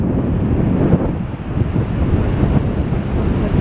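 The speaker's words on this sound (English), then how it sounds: "you'll be able to hear the wind a lot more" Strong wind buffets the microphone on Blackpool North Pier, a continuous loud rumbling roar with gusty swells and no voices.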